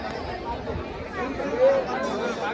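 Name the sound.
crowd chatter at Dwarkadhish temple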